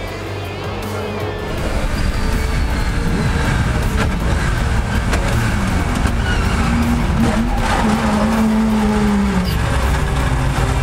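Historic race cars that once competed in the Spa 24 Hours, racing at the 2014 Spa-Classic, roar past after a quiet start, building into a loud, sustained engine blare with a rising and falling pitch as they pass.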